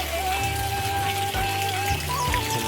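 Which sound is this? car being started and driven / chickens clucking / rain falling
rain falling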